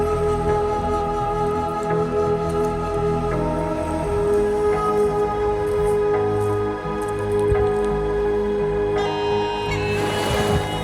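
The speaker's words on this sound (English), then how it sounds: "the Scottish rain and mist is coming down with a vengeance now" Scottish rain and mist falling on a coastal hike near Rockcliffe, a steady broadband hiss close around, with a brief rustling burst near the end.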